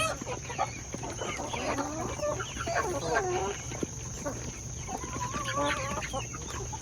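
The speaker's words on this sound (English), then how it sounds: "the naked necks, the baby chicks, the grown chickens are all mixed in" Naked neck chickens mixed with baby chicks and grown hens in a backyard flock, giving repeated soft clucks and murmuring calls, close by and overlapping at a moderate level.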